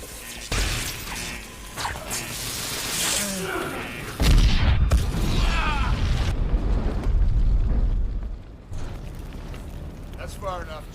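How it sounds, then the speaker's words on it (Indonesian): A loud cinematic explosion erupts with a deep rumbling roar and crackling debris, sustained for several seconds amid chaotic action sounds, then fades to softer effects. "tempat mereka meledak dan membuat si driver terlempar keluar dari bangunan itu"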